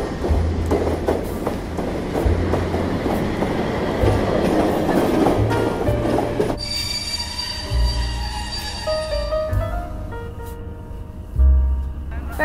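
A Montreal metro train at Champ de Mars station rumbles and squeals along the rails, a steady loud roar that shifts midway into a braking whine with tonal squeals, close and continuous under faint background voices.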